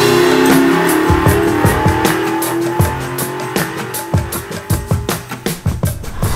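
A car engine runs on a dynamometer during its break-in procedure, first droning steadily, then revving in a series of sharp, loud bursts that rise and fall in quick succession.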